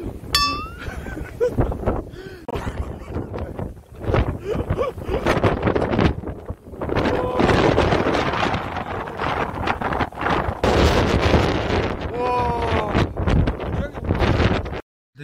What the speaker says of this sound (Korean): 이런 바람 처음 맞아봐요.